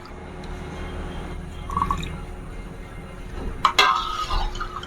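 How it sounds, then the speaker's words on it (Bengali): A small splash of water poured into sugar syrup on a stove for Bardhaman sitabhog sweets, heard as a brief trickle and clink of glass over a low cooking hum. "সামান্য জল দিয়ে দেব।"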